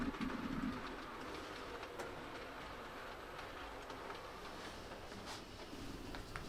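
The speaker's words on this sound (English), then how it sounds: "a Royal train passes through Havant Aclew on its way to Portsmouth." A model train on a 00 gauge Southern Region layout rumbles past at a moderate distance, a steady broad roar with faint rail clatter and a few birds calling over it.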